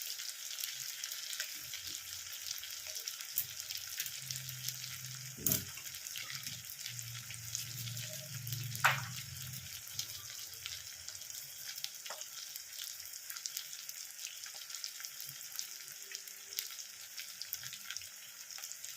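Onion, green chillies and tomato fry in a pan with a steady, moderately loud sizzle, broken by a few clunks of the pan and a short thud midway.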